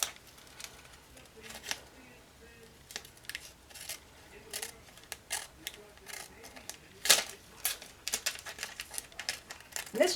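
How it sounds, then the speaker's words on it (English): Quiet, intermittent snips and clicks of scissors cutting through a thin plastic cello bag, scattered irregularly over a soft background. "gotta grab some scissors"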